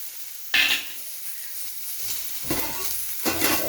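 Onions frying in oil while a peanut and mint chutney is made, quiet crackling sizzle arriving in separate bursts with brief stirring scrapes and pauses between them.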